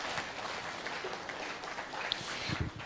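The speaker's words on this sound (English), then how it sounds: "Ɔdadeɛ James Boateng, round of applause for our keynote speaker." A conference audience applauds a keynote speaker, clapping steadily in a dense wash of applause that holds throughout at moderate loudness.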